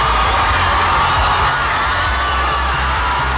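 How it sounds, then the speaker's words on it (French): Jubilant crowd cheering as Miss pageant results are announced: a loud, steady roar of many voices with shouts and whoops, continuous throughout. "une foule en liesse."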